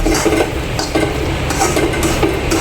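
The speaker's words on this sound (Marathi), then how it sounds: "बेसन पीठ रवा भाजतोय" Semolina and gram flour roasting in ghee in a pan, stirred with repeated scraping and clinking strokes of a utensil against metal, close and fairly loud, with a soft frying hiss beneath and no talking.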